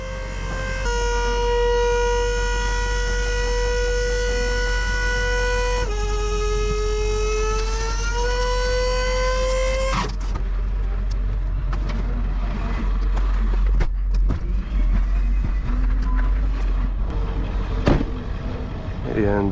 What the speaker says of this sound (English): little electric motor, to push some fluid through a little pump into a cylinder and just lift a tremendous amount of weight